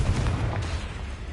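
Confringo fire-blast spell explosion in Hogwarts Legacy, a loud, dense burst with a deep rumbling low end that holds steady for just over a second before easing off.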